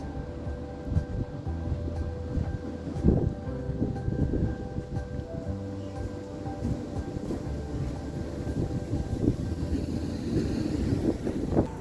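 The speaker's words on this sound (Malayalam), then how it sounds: "Okay, so train വന്നുകൊണ്ടിരിക്കുന്നുണ്ട്." A train pulls into a station near Howth in Ireland, its low rumbling roll building over nearly twelve seconds, mixed with gusty wind buffeting the microphone and a few scattered knocks.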